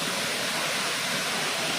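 A waterfall at Amarkantak roars as a dense, steady broadband rush, loud and continuous with no voices over it.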